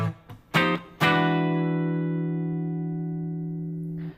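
Blues guitar in A plays a closing lick: a few quick picked notes, then a ninth chord struck and left to ring out, slowly fading over several seconds.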